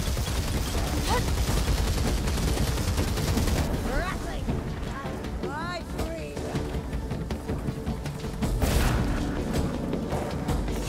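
Gunners firing in the Warhammer Vermintide 2 video game: rapid bursts of gunfire and booming shots crackle through a dense battle din, with voices calling out over the fighting.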